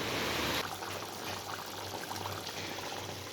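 A glass of water splashes into a pot of chicken curry in a brief, loud pour, then settles into a quieter steady simmer.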